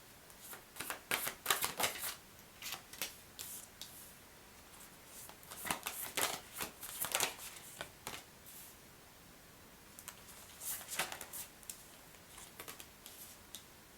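Tarot cards are shuffled in close, quiet bursts of rapid riffling and flicking, several clusters separated by brief pauses.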